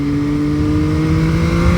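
An MV Agusta Brutale 800 engine holds a steady, loud, close revving drone with strong sustained tones and no voices.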